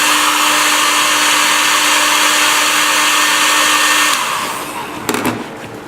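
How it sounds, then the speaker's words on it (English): An electric heat blower roars steadily and loudly while melting cocoa for homemade bean-to-bar chocolate, then cuts off near the end, leaving a few faint clicks and rustles. "I'm gonna use this blower from time to time."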